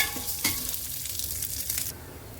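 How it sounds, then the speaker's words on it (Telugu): Lentils frying in ghee, stirred with a steady scraping and a continuous close sizzle that cuts out sharply near the end. "కొంచెం నెయ్యి వేసాను, అందులో కొంచెం పప్పు వేసాను, వేసుకొని ఇలా తిప్పుతున్నాను"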